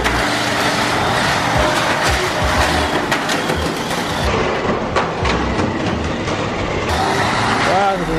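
Tamiya mini 4WD cars, a Cyclone Magnum and a Neutral Drift ZMC, race around a plastic track with a loud, steady rattling whir and clattering lap noises throughout, with voices present in the background.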